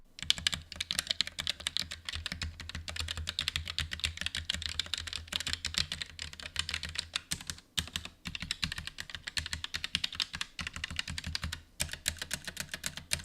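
Continuous fast typing on a compact 65% gaming keyboard, dense overlapping keystrokes clattering close to the mic for the whole stretch with only a couple of brief pauses, no voices.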